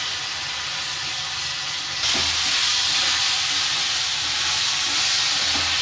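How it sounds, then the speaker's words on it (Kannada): Crushed ginger and garlic fry in a hot pan as an egg side dish is cooked, giving a steady, loud broadband sizzle that grows stronger about two seconds in, with faint stirring bumps beneath and no talk. "ಜಜ್ಜಿಕೊಂಡಿರೋದು ಶುಂಠಿ ಮತ್ತು ಬೆಳ್ಳುಳ್ಳಿನ ಹಾಕೊತ ಇದ್ದೀನಿ. ಇದು ಹಸಿ ವಾಸನೆ ಹೋಗೋ ತನಕ ಇದನ್ನ ಕ್ಲೀನಾಗಿ ಫ್ರೈ ಮಾಡ್ಕೋಬೇಕು"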